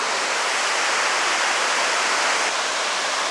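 Cumberland Falls, a waterfall roughly 60 feet high, pours and splashes in a loud, steady broadband roar that fills the whole stretch without talk.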